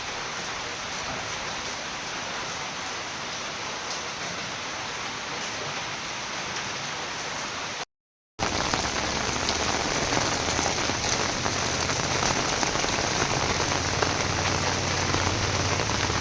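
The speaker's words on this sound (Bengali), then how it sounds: "তো দেখুন কীরকম বৃষ্টি হচ্ছে" Heavy rain pours down in Bankura during a long spell of wet weather, a dense, continuous hiss of drops striking the ground and surfaces nearby, broken only by a brief dropout midway, with no voices.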